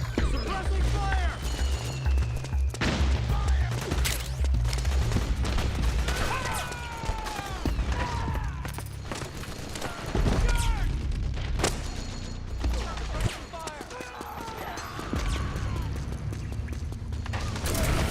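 Heavy gunfire and bursts of suppressing fire rattle through a Metal Gear Solid 4 battle, with booms and mechanical clatter over a steady game din, while voices shout amid the fighting.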